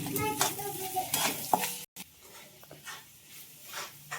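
Onions frying in a pan for a fasting meal, with close stirring and scraping over a light sizzle and a brief cut partway through.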